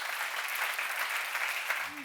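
A church seminar audience claps in a steady, even wash of applause, with a voice starting to speak faintly at the very end.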